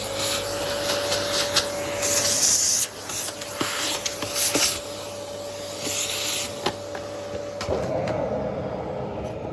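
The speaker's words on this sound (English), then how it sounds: "Trusty vacuum cleaner." A vacuum cleaner whirs steadily at close range with a constant tonal whine, its nozzle scraping and knocking against a surface now and then.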